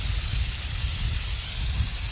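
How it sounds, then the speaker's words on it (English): Aerosol lubricant sprayed from a can directly onto a surface, a loud, continuous close hiss of spray holding steady throughout. "So I'll spray it directly on it"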